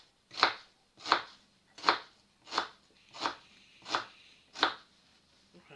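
An onion is chopped with a knife on a board in seven evenly spaced, crisp thuds, close and clear against a quiet background, with no talking.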